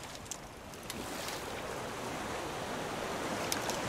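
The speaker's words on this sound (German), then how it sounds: "Jetzt wird auch noch die See rau." Rough sea in the survival raft game Raft: a steady, broad wash of surf and rushing water fills the whole stretch, with a few faint splashes and clicks on top.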